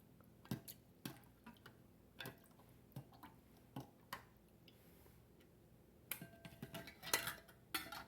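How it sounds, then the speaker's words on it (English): Canning jar lids lifted from warm water with a magnet stick and set onto jars: a series of sharp metallic clicks and light clinks, irregular and close, with a busier cluster of taps near the end. "we'll use our magnet stick and we'll take the lids out and put them on top of our"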